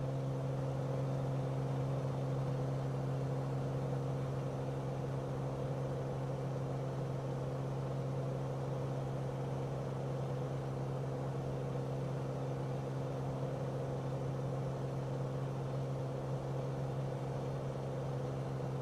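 Steady aircraft engine drone from Microsoft Flight Simulator 2024 at throttle, a continuous even hum with little change in pitch or loudness and no audible rev-up, holding alone without speech.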